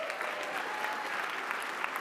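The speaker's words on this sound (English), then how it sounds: "Let's give him a round of applause." An audience applauds at an engineering awards event honoring the Black Engineer of the Year, a steady wash of many hands clapping that holds at a moderate, even level throughout.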